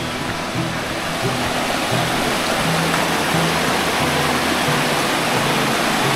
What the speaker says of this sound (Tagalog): You are now entering Timugan Falls.